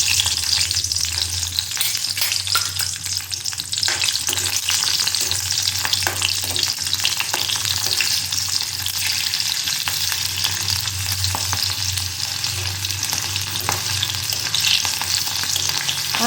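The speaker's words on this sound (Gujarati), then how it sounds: "પેલા તેલ આવી ગયું છે ને એટલે મરચાં થોડાક કાઢી લઉં." Chillies frying in hot oil in a Gujarati home kitchen while drumstick curry is prepared, a loud continuous crackling sizzle filling the whole stretch with constant popping and spatter.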